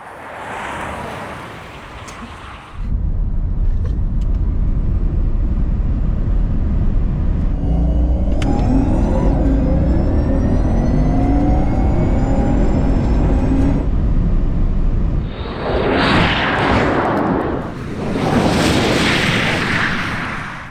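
A Tesla Model S Plaid and a Porsche Taycan Turbo GT in a rolling-start drag race, a loud sustained electric whine and rushing roar lasting over ten seconds, then fading into gusty wind noise.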